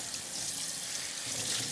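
Warm tap water runs steadily into a sink while an oven copper crisper tray, coated in chicken oil and grease, is rinsed by hand; a continuous close splashing hiss with no talking.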